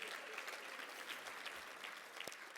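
Applause and cheering from an audience at a community chamber awards celebration, a steady dense wash of clapping filling the room with no break.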